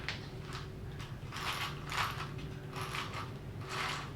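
Freshly greased gears in an Axial SCX10 III RC crawler transmission whir and click as they are spun by hand, with several short repeating bursts of ratcheting mechanical noise close to the microphone.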